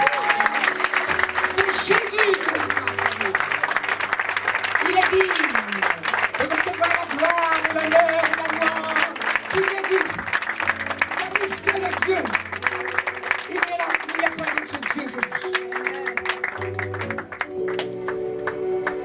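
A church congregation at a convention applauds and cheers in praise of Jesus, a sustained roomful of clapping mixed with raised voices and shouts, loud and continuous throughout.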